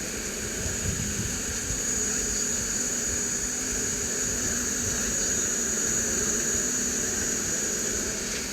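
Jet airliner engine on approach to Zhanjiang airport, China Southern flight 8877: a steady, loud roar with a high whine held across the whole stretch, with no talk.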